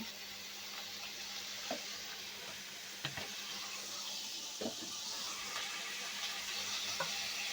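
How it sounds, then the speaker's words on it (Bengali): Potatoes and cauliflower frying in oil, a soft steady sizzle and hiss with a few faint clicks of a spatula against the pan, quiet and continuous with no speech. "আলু কপি ভেজে নিচ্ছে, এজন্য একটু তেল লাগবে, দিয়ে দিলাম।"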